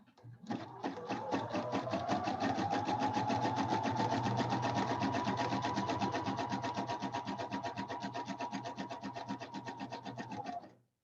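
A sewing machine runs steadily for about ten seconds, stitching a seam in throw pillow fabric, its rapid needle rhythm loud and close, with no talking.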